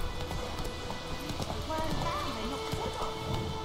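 Steady clip-clopping of horse hooves with game-like ambience from The Witcher 3: Wild Hunt, while people talk over it throughout.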